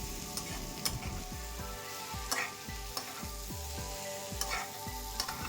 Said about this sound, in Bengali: পটলও চাল ডালের সাথে খুব ভালো করে মিশিয়ে নিয়ে কষিয়ে নেব